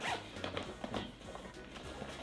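A small zipper on a Gundam RX-78-2 themed bag is pulled open in several quick, rasping strokes, close and fairly quiet, with faint handling noise between pulls.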